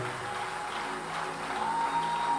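Congregation at a prophetic church service acclaiming the Lord, a dense continuous wash of applause and crowd noise filling the hall, steady and fairly loud with no clear individual voices.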